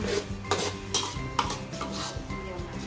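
Salted egg chili paste being stir-fried in a pan, with repeated scrapes and clinks of a utensil against the pan over a soft sizzle, steady and close.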